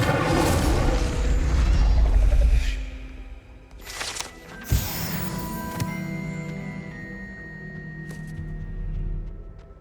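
Incendio fire spell cast in the video game Hogwarts Legacy, a loud booming rush of flame with a deep rumble that breaks off into a sharp burst and crackling pops, then settles into lingering low magical tones.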